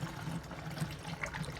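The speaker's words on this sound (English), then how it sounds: "So next we're going to add our water" Water pours from a container into a dilution bottle for car care products, a close, steady gurgling trickle with small bubbling splashes throughout.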